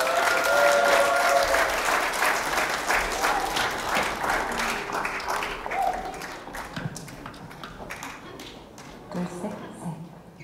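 An indoor audience at a Gwangju commemoration ceremony applauds to welcome a singing group, dense clapping loud at first and gradually thinning out over about ten seconds, with a voice speaking briefly near the end.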